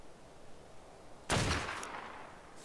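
A single sharp assault rifle shot cracks out in ARK: Survival Evolved midway through, then fades into a short echoing tail over quiet background hiss.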